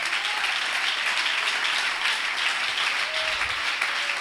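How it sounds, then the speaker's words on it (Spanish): Church congregation applauding loudly during a sermon, a dense, steady roar of many hands clapping that fills the whole stretch, with no talk over it. "Si ese aplauso es para él, déselo fuerte."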